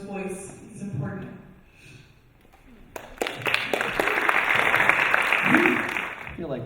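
After a stretch of talking, an audience at a Quaker school gathering breaks into steady, dense applause that holds for several seconds and sounds close and full.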